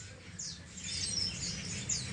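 Canaries chirping in quick, high-pitched bursts over a low background hum, the calls coming in short overlapping flurries.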